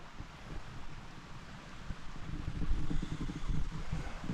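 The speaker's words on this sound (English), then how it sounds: "I can hear that creek and I can see it right up there." A creek at Devil's Bathtub flows in a steady, broad rush of water, continuous and moderately close, with no talking over it.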